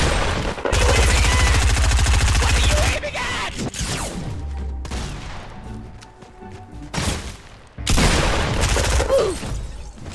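Rapid automatic gunfire bursts from the Fortnite video game, loud and dense in two long stretches with shorter volleys between, separated by brief lulls.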